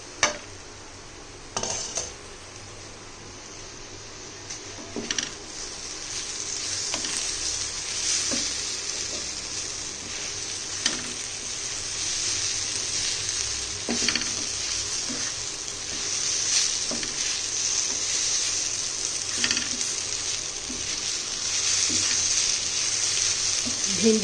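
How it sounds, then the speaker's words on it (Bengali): Okra frying in a pan, a continuous close hiss and sizzle of oil with occasional clinks and scrapes of a utensil against the pan, steady throughout and without talk. "আমার ভেন্ডি ভাজা"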